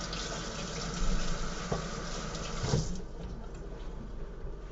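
Hot water runs from a kitchen tap in a steady, soft gushing stream that changes tone briefly midway, with no talking.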